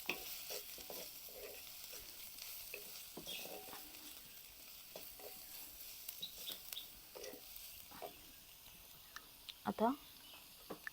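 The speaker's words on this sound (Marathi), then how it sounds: "हे सर्व व्यवस्थित परतून घेऊया." Ingredients for a drumstick flower bhaji sizzle in a pan while being stirred, a faint, steady frying hiss broken by scraping stirs and small clinks, with a voice speaking at times.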